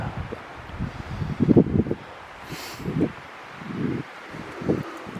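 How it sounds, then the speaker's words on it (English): Wind gusts through trees on a forest ride, a faint airy rush broken by louder buffeting bursts of wind noise against the microphone. "So it is borderline windy."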